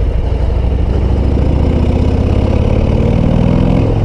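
Harley-Davidson Road Glide ST 117 motorcycle engine cruising at 40 km/h, a loud, steady low rumble with a continuous throbbing pulse that holds even throughout, with no voices over it.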